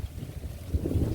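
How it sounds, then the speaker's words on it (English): Wind gusts across a corn farm in harvest season, with the dry crop ready for cutting. The rumble and buffeting against the microphone are close and fairly loud, and they swell toward the end. "It's windy guys."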